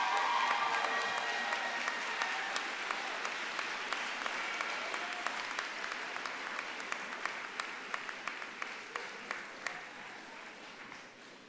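Graduates at the Penn State Brandywine spring 2016 commencement give their families a big round of applause, a dense, sustained crowd clapping that slowly thins toward the end as individual claps stand out.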